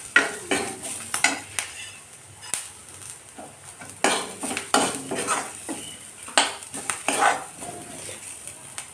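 Onions fry in a pan while a spoon stirs and scrapes them, repeated clattering utensil strikes and scraping over a soft underlying sizzle, close and uneven in rhythm.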